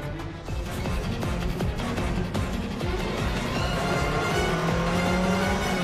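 A speeding sports car racing along at high speed, chased by gendarmerie motorcyclists, its engine roaring and revving loudly with tire noise, a continuous close, dense rush of motor sound building toward the end.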